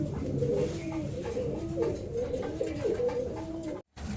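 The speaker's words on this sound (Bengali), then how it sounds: "এখানে দেখতে পাচ্ছেন বেশ কিছু কবুতর আছে" Several pigeons at a pigeon sale centre coo together in a close, rhythmic warble of rising and falling calls, steady and fairly loud, before the sound cuts off abruptly near the end.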